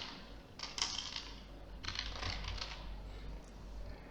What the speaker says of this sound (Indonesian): Dengan cara ketik alamat ya